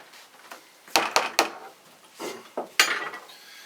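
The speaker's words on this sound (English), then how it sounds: "Give it a quick stir." Home-brewed beer gets a quick stir in a pot, with a spoon knocking and scraping against the sides in a short burst of clattering strokes.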